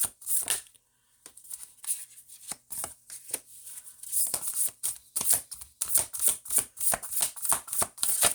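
Tarot cards are shuffled by hand close up, giving brisk bursts of crisp riffling and slapping with a short pause near the start, then a quick rhythmic run of snaps.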